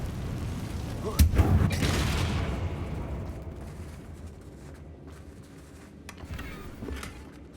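A single deep booming blast from the Confringo spell in Hogwarts Legacy, erupting loudly near the start and rumbling off into a long fading tail, followed by faint scattered crackles.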